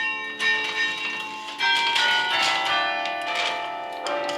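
Low carillon bells on the Davis Memorial Carillon, struck by hand on the pedal keys, ring out in several loud, close strikes with long overlapping metallic resonance and no talking.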